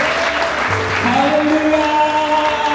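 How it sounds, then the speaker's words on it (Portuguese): A church congregation applauding during a worship service, steady clapping under sustained tonal sound, likely music or voices, with low tones entering partway through. "dê o melhor aplauso da sua vida para o Senhor nesta noite"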